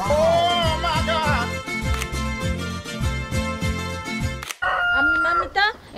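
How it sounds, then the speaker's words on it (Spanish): A rooster crows loudly in a house patio, its call rising over a rhythmic musical backing, followed by a brief drop to quiet and then further crowing and clucking. "Con el gallo."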